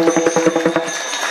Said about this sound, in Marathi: तुम्ही टाळी वाजवलात